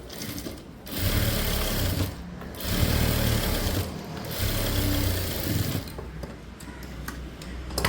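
A sewing machine stitches blouse fabric in close, loud runs of rapid mechanical whirring, pausing briefly between bursts.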